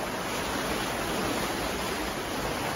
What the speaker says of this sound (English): So as you might expect, there's a massive gush of water.